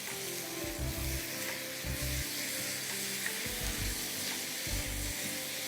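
Minced beef keema fries with onions in a pan, a steady crackling sizzle running throughout with occasional low knocks of stirring, close and moderately quiet.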